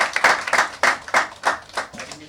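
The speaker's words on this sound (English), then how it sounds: "please give him a huge round of applause." Audience applauding Irrfan Khan at a Stardust magazine cover unveiling event, a burst of clapping hands with uneven rhythmic peaks, fairly close and loud throughout.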